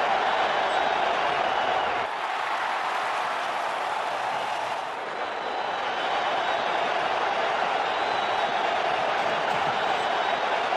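A big stadium crowd at a men's cricket World Cup match between Bangladesh and Australia roars and cheers after a boundary, a dense, sustained wall of noise that dips slightly midway and then swells again.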